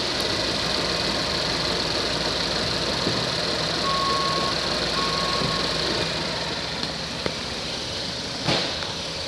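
A 2013 Chevrolet Captiva LS idles in reverse, a steady engine hum with a faint high chime or reversing beep sounding briefly, heard close and continuous.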